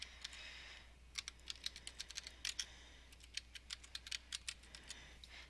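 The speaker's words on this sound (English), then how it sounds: "So you type in their name and hit search." A name is typed on a computer keyboard: quiet, quick, uneven key clicks in short bursts, pausing now and then, heard alone over a faint steady hum.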